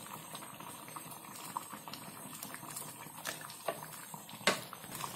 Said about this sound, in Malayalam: ഈ മീനെ 2 മിനിറ്റ് തിളച്ചാൽ മതി